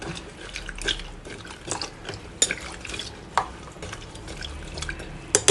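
A spoon stirring sambar ingredients with salt and sambar powder in a pot, producing wet sloshing and scraping with a few sharper clinks against the metal, close and steady.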